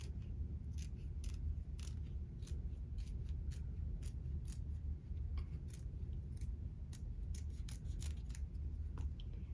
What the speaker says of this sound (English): then just neatly trim, leaving somewhere between 1/8 of an inch or 1/4 of an inch